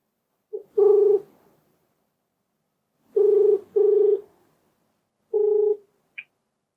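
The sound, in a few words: telephone dialing and ringing for a call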